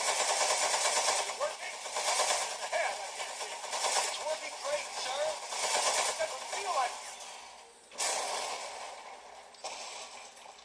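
Gunfire aimed at a metal enemy in the video game Aperture Desk Job: sustained rattling bursts of shots over several seconds, broken by short gaps, with a voice talking over part of it.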